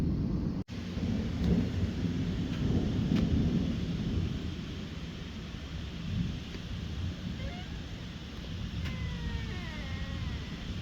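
A thunderstorm over Bordeaux brings a sharp crack followed by a long rolling rumble of thunder over steady rain and wind noise. A few faint chirps sound near the end, and no one speaks.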